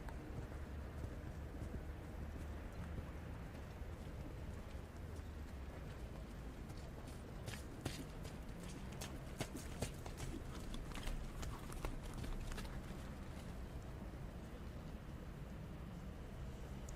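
Hooves clip-clop softly and at a distance as a horse performs a dressage test at a junior eventing championship, a faint irregular patter over a steady low arena rumble.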